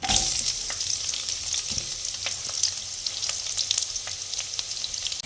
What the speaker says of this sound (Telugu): మూత పెట్టి బాగా ఆనియన్స్ గోల్డెన్ కలర్ వచ్చే వరకు ఫ్రై చేసుకుందాం